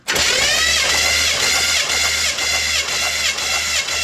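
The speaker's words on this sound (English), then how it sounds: "So go ahead and crank it" An engine is cranked on the starter with the ignition disabled during a cylinder compression test: a loud, continuous, even churning whir runs unbroken for about four seconds, close to the microphone.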